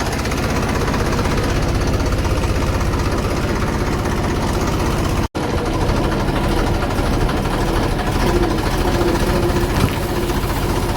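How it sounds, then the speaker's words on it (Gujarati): A tractor engine on a farm runs loud and close with a steady low, throbbing idle that rattles on continuously, with one abrupt momentary dropout midway and no talking. "પછી ટ્રેક્ટર ચાલુ કર્યું."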